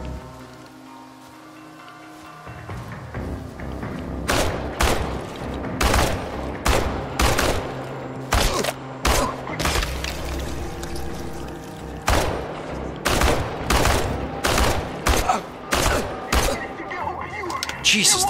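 AK rifle fire in the Chernobylite video game crackles in rapid bursts and repeated sharp shots over a noisy background, loud and sustained through most of the stretch, with no clear talk over it.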